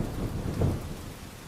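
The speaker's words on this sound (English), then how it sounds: "it is raining heavily" Heavy rain in a steady, dense wash with a low rumble of thunder swelling near the middle, close and continuous throughout with no voices.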